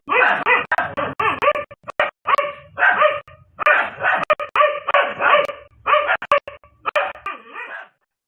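Several dogs bark hard at a cobra, loud close yaps and bow-wows in quick bursts with short gaps, some turning to higher yips and whimpers, no speech.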